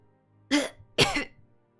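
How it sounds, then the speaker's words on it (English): Two short, throaty coughs in quick succession, close and fairly loud against near silence, the second rougher and longer. "You hear some coughing."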